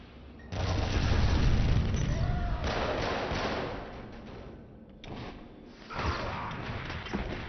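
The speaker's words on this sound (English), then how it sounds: "Enemy arc missile activated." Enemy arc missile strike in Killzone Mercenary multiplayer: a sudden heavy boom followed by rumbling blasts and whooshes, with a second burst of impacts later, fairly close.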